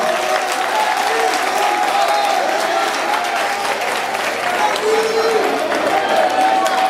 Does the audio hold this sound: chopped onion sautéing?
no